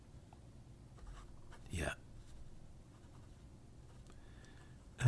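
An Italian Ancora fountain pen with an 18 karat medium nib scratches briefly across paper in one quick faint stroke, under a quiet room hiss, with a single short spoken word nearby.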